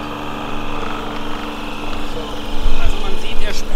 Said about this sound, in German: Was ihr jetzt hört, ist nur der Wassermacher.